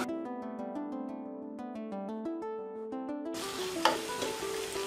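Spice paste for a traditional Bangladeshi wedding-style chicken roast sizzles loudly and steadily in a pan, starting abruptly after a stretch of music.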